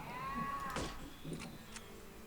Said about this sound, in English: Someone making goat noises.